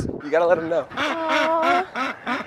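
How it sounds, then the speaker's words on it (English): Ducks quack in short, loud, nasal bursts close by at a pond where Canada geese are also around, while a person speaks over them. "Those are ducks."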